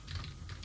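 Quick soft keystrokes on a computer keyboard form a brief, continuous patter of typing, close and quiet, with no speech.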